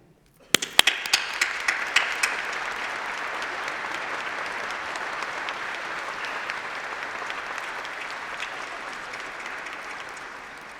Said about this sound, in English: let's have a huge round of applause for all those special people, your family, your friends, and your tutors